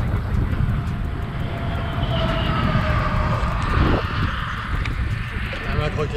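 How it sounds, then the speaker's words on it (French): A long freight train rolls past on the rails in a continuous low rumble and clatter, heard from the roadside by a touring cyclist, with strong wind buffeting over it. "Ces longs trains sans fin."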